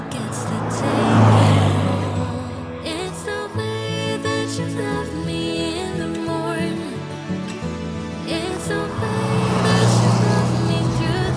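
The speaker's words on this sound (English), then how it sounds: "drives beautifully, doesn't it, Graham?" A classic car, one often mistaken for a Volkswagen Beetle, driving along a road with its engine droning and rising under passing traffic, close and loud, while music plays over the top.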